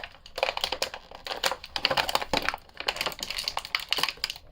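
Rapid crinkling and crackling of stiff plastic packaging as a Logan Paul WWE Ultimate Edition wrestling figure is pried out, a dense run of close, loud rustles and snaps with no voices.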